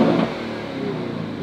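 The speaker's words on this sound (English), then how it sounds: "You gotta get in there and rev it." A 650 hp Lamborghini engine revs loudly and up close, a brief roaring burst at the start that settles into a steady drone.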